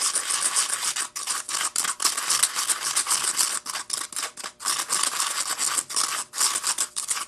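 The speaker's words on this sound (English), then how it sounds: "Now I'm going to dry stir it. I'm going to dry mix it." A plastic stir rod dry-mixes battery powder in a steady run of gritty, close scraping strokes, bright and raspy, repeating in quick uneven rhythm with brief gaps between passes.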